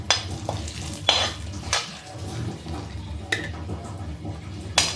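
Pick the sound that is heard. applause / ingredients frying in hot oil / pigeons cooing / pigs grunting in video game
ingredients frying in hot oil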